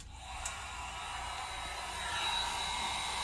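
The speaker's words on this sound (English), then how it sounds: "little hair dryer thing here and just make real sure that it's good and dry" A small hair dryer blows steadily with a continuous whooshing hum, growing slightly louder toward the end, close by.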